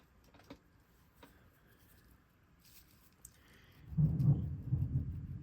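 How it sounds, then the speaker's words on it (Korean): Thunder from a lightning storm outside, heard from indoors: quiet at first, then a single deep, loud rumble rolls in over the last second and a half. "밖에 번개 친다"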